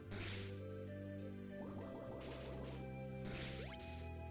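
Water Pulse attack from a Pokémon game, a watery bubbling and dripping effect with a rising whoosh near the end, heard over steady game music.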